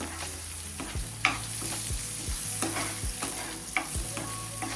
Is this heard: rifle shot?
no